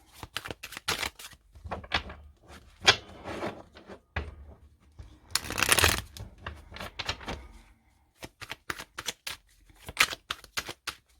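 A deck of oracle cards is shuffled in quick bursts of crisp riffling and slapping clicks, nearby and fairly loud, with short pauses between runs and no talking.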